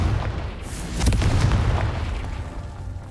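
A Confringo spell in the video game Hogwarts Legacy sets off a deep, rumbling explosive boom that swells and lingers, loud and close.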